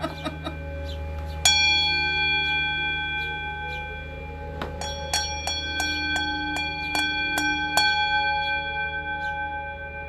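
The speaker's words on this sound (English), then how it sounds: "let's ring the bell" A bell rung repeatedly during a morning heart chakra session, bright ringing strikes at an irregular pace, each leaving a long shimmering decay that overlaps the next, loud and close over a low background hum.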